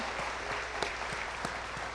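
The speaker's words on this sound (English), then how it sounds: "Let's just have a resounding applause for all the youth in the room." An audience at a youth summit gives sustained applause, a steady wash of many hands clapping with a few sharper claps standing out, heard without talking.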